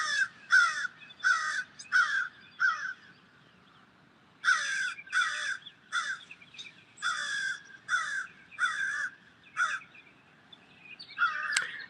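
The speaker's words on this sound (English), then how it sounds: "the bird is going off" Crows caw loudly outdoors in North Carolina, a series of harsh calls in irregular bursts of two to four, with short pauses between groups and no talking.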